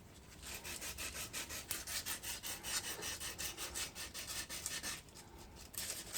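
Engine valves being lapped by hand with coarse lapping compound: a steady, rhythmic back-and-forth grinding rub repeating in quick strokes, close and fairly quiet, with no talking.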